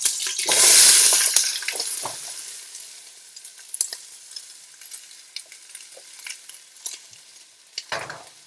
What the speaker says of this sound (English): We're back and our fat is smoking. So, let's pour in our onions.